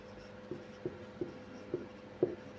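A pen writes on paper during an accounting lesson, making soft scratching strokes with about five distinct taps in a steady rhythm, faint and close over a low background hum.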